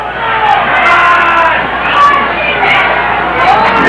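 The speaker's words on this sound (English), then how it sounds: "The crowd inspiring the Whippets defense." A home crowd at a 1984 Whitewater Whippets high school football game keeps up a broad, steady roar of cheering and hubbub, with a commentator talking over it.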